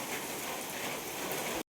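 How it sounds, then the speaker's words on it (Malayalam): Heavy rain falls steadily in flooded Kuttanad, a dense, even hiss of drops on surfaces that continues without a break and then cuts off abruptly at the end. "മഴയാണ് ഇവിടെ മൊത്തം"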